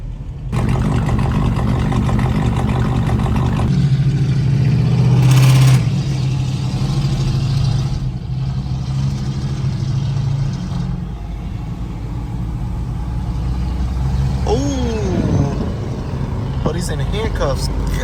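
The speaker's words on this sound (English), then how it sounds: "That Durango is loud." A loud modified Dodge Durango rumbling and revving outside a car show with police cars nearby, a deep sustained engine roar close by, while people talk over it.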